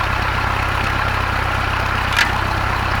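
A Mercruiser 140 hp boat engine runs steadily at a loud, even idle while the throttle is moved forward. A brief higher whoosh rises near the end.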